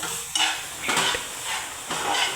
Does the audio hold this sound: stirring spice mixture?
yes